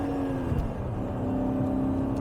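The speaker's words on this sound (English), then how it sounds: "look at that downshift" A 1997 Mercedes E420 with its V8 downshifts while driving in traffic, a steady engine drone with a rising whir, heard from inside the car with no talking.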